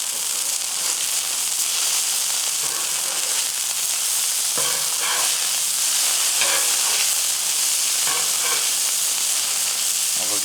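Burger patties for a poblano burger sizzle loudly in a hot pan just after being flipped, a dense continuous frying hiss with occasional scrapes and clunks from a utensil.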